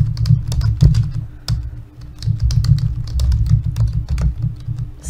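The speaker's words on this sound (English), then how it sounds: "So I'll just type it the long way." Typing on a computer keyboard: a close, quick, uneven patter of individual key clicks with short pauses, no voice over it.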